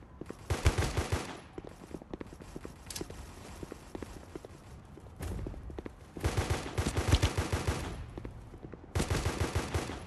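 Sniper rifle and other gunfire in the mobile shooter Guns of Boom, with repeated sharp loud shots in bursts and clusters over a steady busy game background, no talk.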